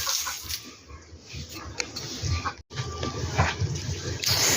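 Water gushes strongly from a hose with a broad, splashing rush, punctuated by grunts and squeals of animals close by.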